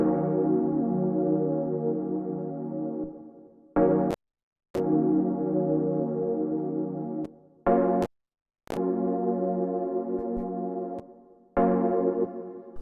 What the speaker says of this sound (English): The first sound we have here is this Wurlitzer, which sounds like this.